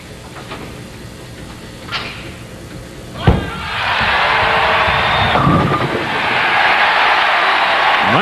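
Spectators at the 1995 Flagship Open ten-pin bowling event reacting to player Mike Edwards: a heavy thud, then a swelling roar of cheering and applause that keeps going, loud and fairly close.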